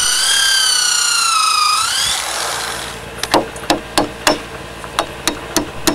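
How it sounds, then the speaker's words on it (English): Bamboo joints of a shelter in Indonesia are drilled and pinned: a sweeping whine at the start, then a regular series of sharp wooden knocks, close and fairly loud. "To secure the joints, drill holes and put in pins."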